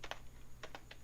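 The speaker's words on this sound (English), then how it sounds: "Alright, he's typing." Quiet typing on a computer keyboard: a few soft, separate key clicks in quick clusters over a low background hum, close and brief.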